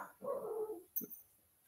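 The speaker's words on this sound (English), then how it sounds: "because then she's going to stop barking" A dog gives a drawn-out, whiny bark followed by a short, sharp yip, faint and somewhat distant in a quiet room, with no talking.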